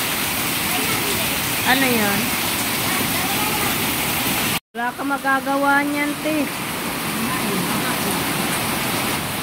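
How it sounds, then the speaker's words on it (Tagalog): Heavy typhoon rain pours down in a loud, continuous roar during flooding, with voices speaking briefly over the downpour. "At sobrang lakas ang ulan."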